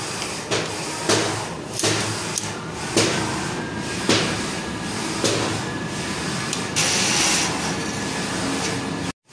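Mechanical whirring and clunking of a Mutoh printer running a head-cleaning cycle, with repeated thumps every second or so over a steady motor hum.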